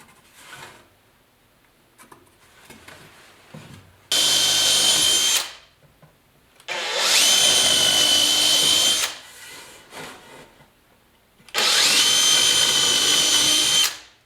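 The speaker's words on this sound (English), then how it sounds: "We're going to pre-drill one more hole here." Power drill boring a pilot hole in a wood 45-degree brace for garage shelving, three loud whining bursts of a few seconds each with quiet handling noises between.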